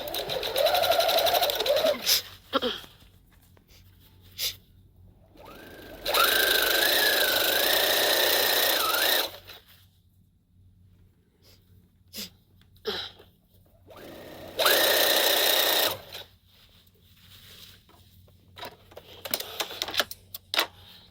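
A sewing machine stitches a sleeve hem in bursts, each run a few seconds of fast, steady whirring and rattling, separated by quiet pauses filled with small clicks and fabric handling, close up, no voices.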